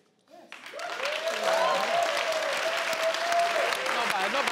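A studio audience at a family game show breaks into applause after a contestant's answer, with a short whoop at the start and then steady clapping mixed with cheers.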